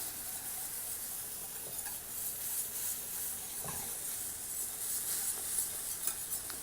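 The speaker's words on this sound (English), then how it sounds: "use a whisk, and then you'll have a nice smooth sauce" Hot milk being whisked into a roux for a cheese soufflé sauce: a steady, close wet stirring and hissing sizzle with faint scrapes of the whisk against the pan, continuous throughout and without talk.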